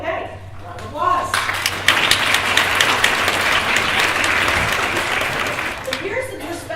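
An audience at a Women in STEM school event applauds a student, steady sustained clapping filling the room for several seconds before thinning out.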